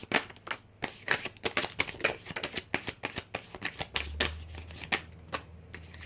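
Tarot cards being shuffled close up, rapid flurries of crisp riffling clicks in quick irregular bursts, fairly quiet.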